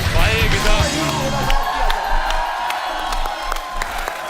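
A studio audience on The Kapil Sharma Show breaks into loud applause and cheering as actor Randeep Hooda is welcomed. The crowd noise is dense and sustained, with whoops rising over the steady clapping.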